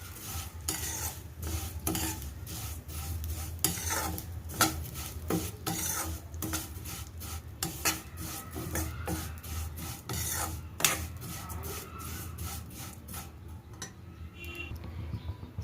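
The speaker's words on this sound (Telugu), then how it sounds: "దీనిలోకి 1 కప్పు సేమియా అనేది కొంచెం వేగాలి." Vermicelli (semiya) roasts in a pan while a utensil stirs it, making repeated close scraping and rasping strokes in an uneven rhythm over a soft background sizzle.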